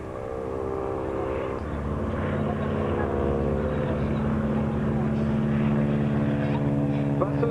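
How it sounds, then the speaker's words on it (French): A formation of four Morane 505 propeller planes passes overhead at a vintage airshow at La Ferté-Alais, the droning engines swelling louder and shifting in pitch as they go by while a commentator talks over the sound. "Passe au-dessus de nous la patrouille des 4 triquets des 4 Morane 505"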